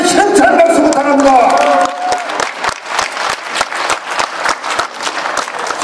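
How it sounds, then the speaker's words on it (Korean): Crowd applause at a Gangnam district mayoral candidate's campaign speech, a voice trailing off at the start before dense clapping takes over and continues loud and sustained to the end. "그 두 분한테 현찰 박수 부탁합니다"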